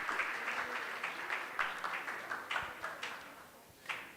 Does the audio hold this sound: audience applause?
yes